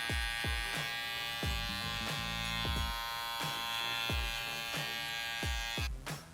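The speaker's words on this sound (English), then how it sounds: "Shaver." A buzzing electric shaver is used during a low-fade haircut on coily hair, held close with a steady hum and repeated rhythmic strokes against the skin.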